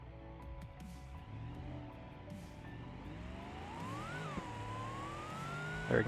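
A car engine in BeamNG.drive revving up through a second gear drag launch, pitch climbing steadily and dipping briefly before rising again, moderately loud and without talk.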